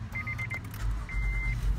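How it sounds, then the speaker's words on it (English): Brand-new Honda Odyssey minivan switched on with its push-button start: a short series of dashboard chimes followed by a longer electronic tone over a low, steady cabin and engine hum. "I'll go ahead and turn it on with the push button start."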